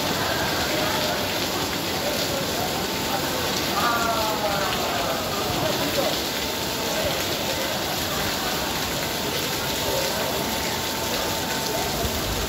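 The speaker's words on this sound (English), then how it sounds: "That's how it's raining. It's leaking all over." Rainwater leaks through the roof into Terminal 1C at an airport, a steady hiss and patter of falling water that continues throughout, with faint voices underneath.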